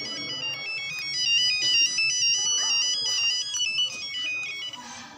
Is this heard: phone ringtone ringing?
yes